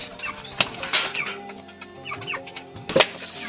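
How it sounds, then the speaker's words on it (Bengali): Rajshahi Giribaz pigeons bustle and flutter close by in a crowded loft, with sharp wing flaps and scattered calls over a steady hum. "কিছু কবুতর আপনাদেরকে দেখাবো কিছু বাজির কবুতর বেস্ট কবুতর"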